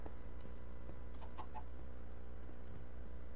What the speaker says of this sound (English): There's a chicken here.